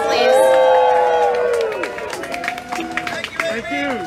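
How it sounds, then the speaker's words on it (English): A crowd at a community Unity Tree event in Boyertown claps and cheers, with a loud burst at the start that thins out as voices talk and call over it. "Let's give them a round of applause, please."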